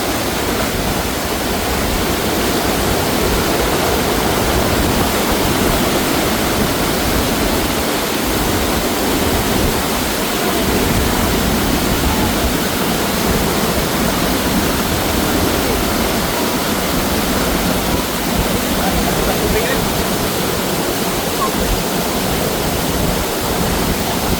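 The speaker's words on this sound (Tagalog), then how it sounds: "Sobrang lakas ng tubig" A powerful waterfall roars steadily throughout, a dense, unbroken rush of crashing water close by with no letup.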